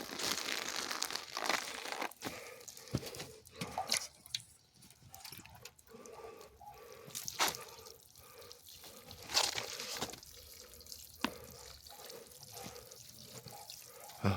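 Water poured from a container onto potted aloe vera pups, with soft splashing and dripping into the soil mixed with crinkling plastic handling noises, close and fairly quiet, no talking.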